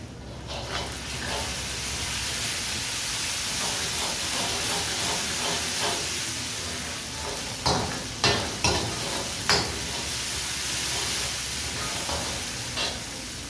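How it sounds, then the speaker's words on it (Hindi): A teaspoon of ginger garlic paste sizzles in hot oil in a pan after something has been fried golden brown. A continuous loud frying hiss fills the kitchen, with a few sharp clinks of stirring near the end. "अब डालेंगे हम इसमें जिंजर गार्लिक पेस्ट 1 टीस्पून"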